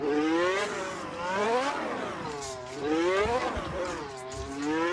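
Formula 1 car drifting in the racing game Assetto Corsa, its engine revving hard in continuous rising and falling sweeps, loud and steady for the whole stretch with no talk.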